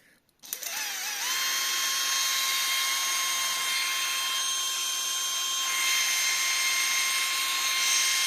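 A small DC motor on a bench supply at 10 volts, running free at about 35,000 RPM, whirs up after a brief click and settles into a steady, close, loud high-pitched whine that holds for the rest of the clip.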